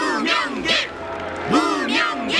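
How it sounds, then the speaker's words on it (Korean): Crowd cheering in the video game Honkai: Star Rail, several bursts of shouting and whooping voices rising and falling in a lively, close celebratory chant. "용감한 무명객 여러분에게 박수와 환호를 보내주세요."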